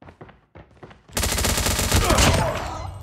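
Rapid, loud automatic gunfire erupts in a 3v3 video game gunfight, a dense rattling burst that follows a few quieter, sparse shots and clicks.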